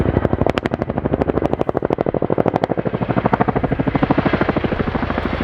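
An RAF Chinook HC.6A helicopter flies past at an air display, its twin rotors pounding out a loud, fast, rhythmic whump close by that gradually smooths as it moves away.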